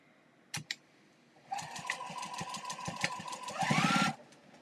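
Juki sewing machine stitching a Legit Kit Goldfinch project: after two brief knocks, a steady close mechanical whir with rapid ticking runs for a few seconds, rising slightly in speed before stopping abruptly.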